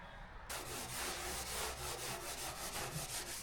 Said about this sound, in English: I'm going to use these red Scotch-Brite pads and just do a little bit of a scuff on them